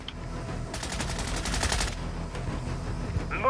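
Automatic gunfire in a video game fired at an enemy buy station, heard as a fast burst of evenly spaced shots lasting about a second over low background game noise.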